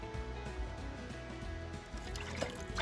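Running water rinses chicken bones, a close, continuous splashing trickle with uneven drips and pours and occasional knocks underneath.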